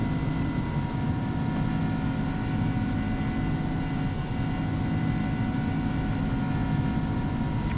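An iniBuilds A300 airliner on its takeoff roll in the X-Plane 11 flight simulator, a steady, loud engine roar with a constant drone and tonal hum held throughout, no break or change in level.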